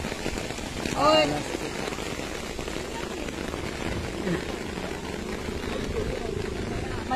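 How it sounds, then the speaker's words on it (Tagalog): Heavy rain pounds steadily on surfaces outdoors on Jin Island, a dense close hiss throughout, with a brief spoken exclamation early on. "Lakas ulan."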